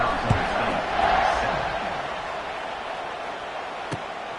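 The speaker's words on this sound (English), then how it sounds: "this crowd is buzzing after that last score" Stadium crowd in the NCAA 26 college football video game, a steady broad murmur of many voices around a kickoff after a score, with a brief louder swell and faint commentary-like voices underneath.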